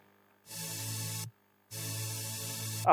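Two sustained synth chords, each held about a second with a short gap between, clean and bright, with no voices.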